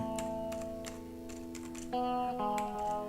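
Keys on a computer keyboard tapped in a short burst while entering a folder name, light clicks over a steady background of music-like tones.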